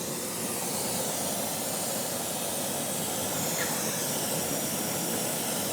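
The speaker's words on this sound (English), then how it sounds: "I'm just going to start a torch here" A torch being lit for pouring babbitt bearings roars with a steady, broadband hiss, loud and constant throughout, with no voices.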